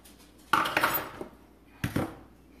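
A utensil scraping and clinking against a bowl while stirring chopped peanut butter cups into a peanut butter mixture, two short clattering bursts with a pause between them.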